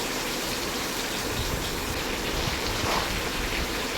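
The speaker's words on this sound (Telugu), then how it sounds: "వాటర్ పోసి దాంట్లో షేక్ చేసేస్తున్నాను" Water is poured into a pan of cooking stuffed brinjal curry, a steady, fairly loud gushing hiss that runs unbroken for the whole stretch with no voices.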